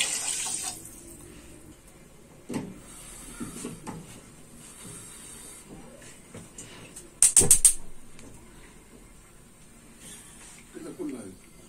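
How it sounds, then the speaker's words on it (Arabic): Water from a kitchen tap runs into washed rice in a pot for rice pudding, in short splashy pours between stretches of quiet kitchen handling and clatter, with someone speaking at moments. "هنزل عليه بمجين ميه ميه من الحنفيه"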